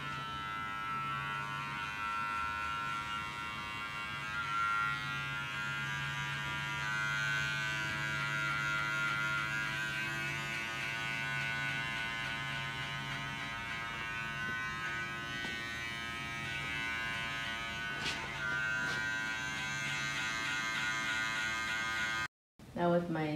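Wahl Senior hair clippers with a guard and the lever open, cutting hair in a barbershop, giving a continuous close electric buzz that holds steady for about twenty seconds before briefly cutting out at the end.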